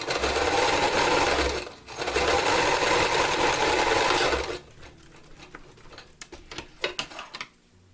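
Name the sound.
sewing machine zigzag stitching a rolled edge on sock fabric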